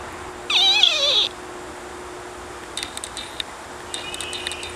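A cat gives one loud, close, drawn-out meow at the start, followed by faint scattered high chirps and clinks against a quiet outdoor background, with no talk.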